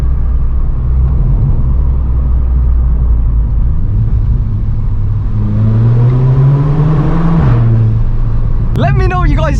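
A Volkswagen Scirocco with a DSG gearbox drives through a tunnel, its exhaust droning steadily and then climbing in pitch as it accelerates, close and loud with a hollow echo, before a sharp crackling pop near the end.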